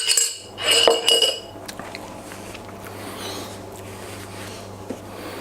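Cheesy pasta being stirred in a cooking dish, with a few sharp clinks of a utensil against the dish at the start followed by quieter scraping and stirring, and a voice talking faintly.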